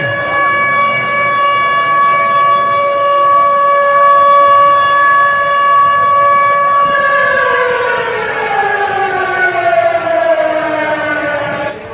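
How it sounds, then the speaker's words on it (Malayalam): A loud starting siren sounds at the Gothuruthu Muziris vallamkali snake boat race in Kerala. It holds a steady wailing tone, then slowly falls in pitch near the end over faint crowd noise. "1ാം സൈറൻ മുഴങ്ങട്ടെ"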